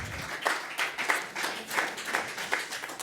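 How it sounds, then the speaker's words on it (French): Sparse, quiet applause from a conference audience after a talk on open cloud and open source, with distinct individual claps spaced irregularly and no voices over it. "je pense qu'on peut applaudir déjà"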